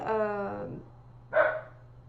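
A dog barks indoors twice: first a drawn-out, tonal bark, then a sharper single yap about a second later, both fairly faint and set against a low background hum.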